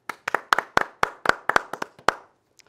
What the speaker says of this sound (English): We should give a round of applause to the anchors and production team who created 26 quick take episodes last year